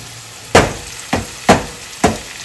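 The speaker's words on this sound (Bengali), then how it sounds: "সবজিটাকে আমি খুব ভালো করে কষিয়ে নিব" Four sharp knocks, spaced about half a second apart, as a spatula strikes a pan of vegetables and onion being stir-fried. Each knock fades quickly, and only a faint steady background hiss sounds between them.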